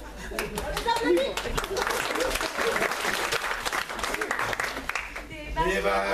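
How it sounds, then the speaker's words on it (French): An audience applauds performers Adeline and Mario, with dense sustained clapping that swells and holds for several seconds, with voices and a child's speech mixed in near the end. "On les applaudit."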